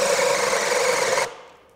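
A Craftsman V20 brushless hammer drill bores into wood with a 1.25 inch spade bit: a loud, steady grinding whir that cuts out abruptly and then trails off quickly.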